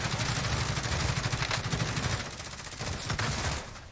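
Dense automatic gunfire from the video game Call of Duty Warzone rattles in loud rapid bursts, easing slightly partway through but continuing to the end.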